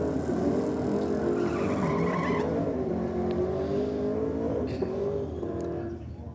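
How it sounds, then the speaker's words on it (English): A ute doing a burnout at a drag racing event gives a loud, continuous tyre screech over a roaring, revving engine for several seconds before it eases slightly at the end. "That's a bit more of a burnout that we were expecting from the Maximum Shine Ute there."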